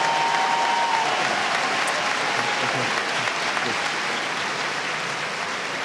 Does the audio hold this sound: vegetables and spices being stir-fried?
no